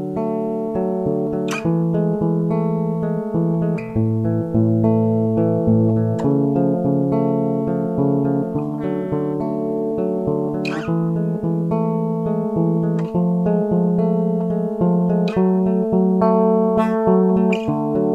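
Acoustic guitar plays the chorus of Madison Beer's "Selfish" alone, steady strummed and picked chords with clear plucked attacks ringing throughout at an even, moderate volume.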